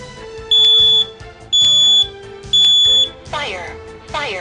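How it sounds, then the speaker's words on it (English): Three loud, shrill beeping bursts from a smoke alarm come about a second apart, and a recorded voice warning from the alarm follows them. "I'm going to let you listen to this one because it actually has a voice alarm"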